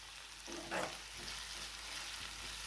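Onions fry softly in oil over a medium gas flame for egg bhurji, a faint steady sizzle with a brief scrape of stirring near the start, with no voices.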